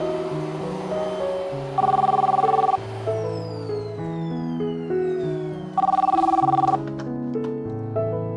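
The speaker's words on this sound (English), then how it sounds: "her phone rang" A telephone ringtone plays in two bursts of repeated ringing tones set against a melodic musical backdrop, with no one speaking.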